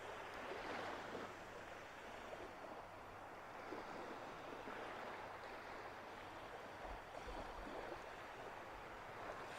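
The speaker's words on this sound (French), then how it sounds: "imaginez d'ailleurs comment est la mer par rapport au bruit de ces vagues" Small sea waves washing in a steady, continuous wash, with a faint low hum underneath and no pauses or voices.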